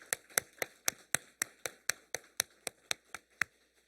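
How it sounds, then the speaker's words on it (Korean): Members of a church congregation clap in a steady rhythm at a Friday prayer service, about fifteen crisp claps at an even pace that fade out near the end, with no talking. "그 위대하신 하나님께 우리 박수로 한번 영광 돌려보겠습니다."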